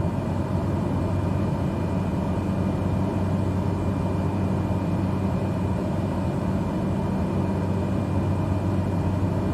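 Steady, loud drone of a Cessna's piston engine in Microsoft Flight Simulator 2020, a continuous low hum holding even throughout with no talk over it.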